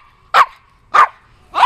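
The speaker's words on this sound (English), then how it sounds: "This is Link. He's one of the most annoying dogs." A puppy barks three times in loud, close, evenly spaced yaps, with quiet pauses between them.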